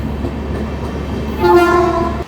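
A Simhadri Express passenger train rumbles steadily nearby, then a loud horn blares for about a second before the sound cuts off abruptly.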